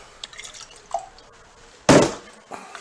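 Water is poured out of a cooking pot in one short splashing burst, preceded by a few faint drips and small clinks, fairly close and alone.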